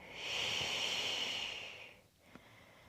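Steady, loud breathing through a Pilates hip-circle exercise, a long breathy exhale lasting about two seconds, then a short sniff-like inhale; no talking.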